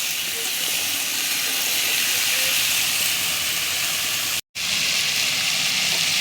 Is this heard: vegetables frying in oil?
yes